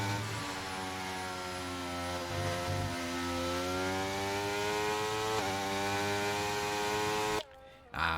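Onboard engine noise from an F1 car in a sim racing game: a loud, sustained high-revving whine climbing steadily through the gears, with a brief dropout near the end.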